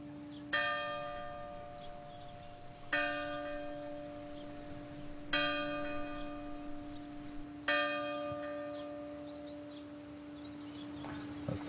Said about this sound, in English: That's the 6:05 bell.